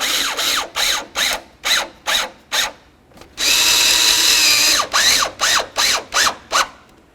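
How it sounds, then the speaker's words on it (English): Cordless power tool zipping bolts snug on a 1988-2000 Chevy C/K1500 marker light assembly: a run of short whirring bursts, a longer sustained run, then more quick pulses, close and loud with no talk. "start in all 4 bolts, and then snug them up"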